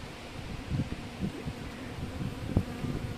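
Buckfast honeybees buzz around an open hive close by in a low, droning hum, with brief louder passes as individual bees fly near.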